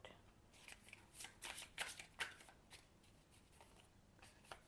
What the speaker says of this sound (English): I'm actually going to take out one more card for the healing bit.